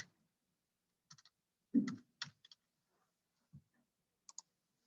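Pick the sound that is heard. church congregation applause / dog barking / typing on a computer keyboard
typing on a computer keyboard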